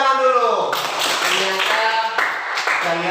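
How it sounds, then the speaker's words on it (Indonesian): A class of children claps together in a classroom, quick overlapping hand claps mixed with a teacher's voice and young voices. "Tepuk tangan dulu."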